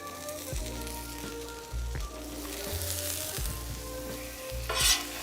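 Sausage sizzling on a griddle for Cajun fried rice, a loud steady frying hiss punctuated by several low thuds and scraping knocks of a spatula, close by with no voices.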